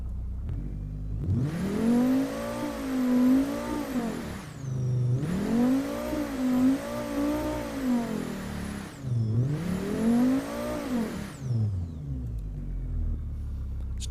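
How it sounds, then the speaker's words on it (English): A 700-horsepower super coupe engine, fully silenced, revs in a driving game: three long rising and falling revs with brief pauses between them, then a steady idle-like hum, loud and close with no talk. "It's not a terrible sounding engine,"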